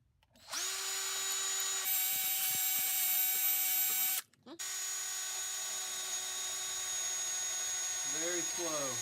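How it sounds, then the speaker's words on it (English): A power drill bores out the small screw hole in a Ram fork-stem mount for an X-grip phone holder, whining steadily at high pitch, cutting out briefly midway, then running on at a slightly lower whine close to the mic. "I'm progressively boring it out with just a drill."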